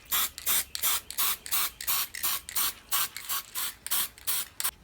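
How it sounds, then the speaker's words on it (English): Short bursts of black aerosol spray paint hiss from a can, about a dozen quick even sprays in a steady rhythm, close and fairly loud with brief pauses between them. "I'm going to be spray painting them all in black first."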